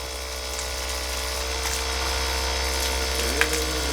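A homemade 24V DC solar water pump runs with a steady low hum and faint mechanical whir as water is pushed up a 7-metre lift, continuous and close, with no talk.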